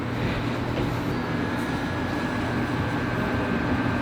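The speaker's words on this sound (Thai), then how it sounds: "รถไฟวิ่งแล้วฮะ" A passenger train heard from inside a carriage runs with a steady low rumble and hum, constant and fairly loud for the whole stretch, without talk.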